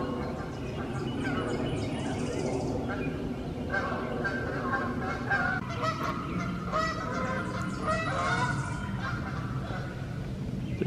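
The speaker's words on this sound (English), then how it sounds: "I think the geese just love this field down here." Geese in a field at Jefferson Memorial Forest honk repeatedly in overlapping bursts from a moderate distance, with a steady outdoor background behind the calls.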